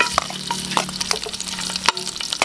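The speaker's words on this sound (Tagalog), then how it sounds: "At sweetie oil. Buyas, kamatis, bawang at luya." Onion, tomato, garlic and ginger frying in oil for a bulalo curry, crackling and popping up close with scattered sizzles and small stirring clatters and a faint background hum.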